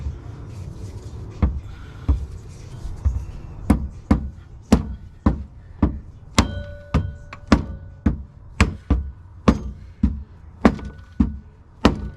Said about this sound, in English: I'm gonna have to bang the frame a lot.